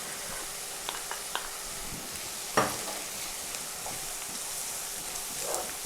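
Crushed garlic, pounded in a mortar, being stirred and fried in a pan: a quiet, steady sizzle with a few light scrapes and one sharper clink partway through.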